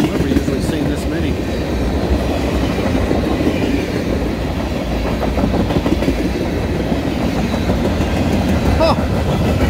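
A CN and KCS freight train with tank cars, plus mixed freight and intermodal cars, rolls past at Schoolcraft, Michigan, its steady loud rumble and rhythmic clickety-clack of wheels on rail joints continuing close by throughout.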